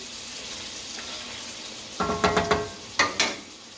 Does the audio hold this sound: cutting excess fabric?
no